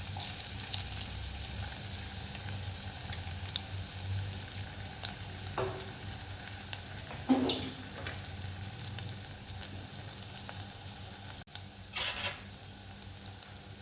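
Chopped green chili sautés in a pan, a soft continuous sizzle with occasional spatula scrapes and clinks against the pan.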